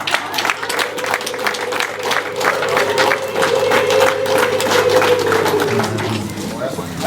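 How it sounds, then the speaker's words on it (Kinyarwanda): Guests at a Rwandan wedding clap loudly in a dense, rapid patter, with a high sustained ululating cry rising over the applause and voices mixed in. "dutanga amashyi n'impundu"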